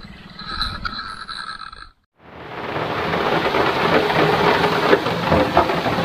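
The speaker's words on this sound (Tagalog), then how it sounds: "Naabutan tayo guys ng malakas na ulan." Heavy rain in a rural province, heard while sheltering in a tricycle: a different sound cuts off, then after a brief silence a loud, steady downpour roars in and keeps building, close and continuous.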